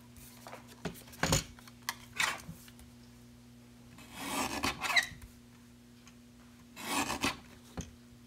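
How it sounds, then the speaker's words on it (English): A mini paper trimmer slides through cardstock in several separate raspy strokes. Short scrapes come first, then two longer cutting passes, all close and alone with no talk. "Then I'm going to trim those up with my mini trimmer."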